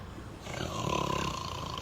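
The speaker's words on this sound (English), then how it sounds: "that is a snore. Definitely an echoey snore." One long, rasping snore echoes through a bus depot, a drawn-out rumbling breath that swells and holds, heard alone in the reverberant space.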